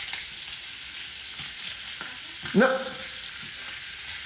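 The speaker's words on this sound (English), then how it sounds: "You're putting cheddar cheese in a frying pan." Cheddar cheese frying in a frying pan gives a steady, close sizzle throughout, and a short sharp voiced exclamation cuts in briefly near the middle.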